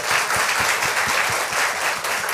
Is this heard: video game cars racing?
no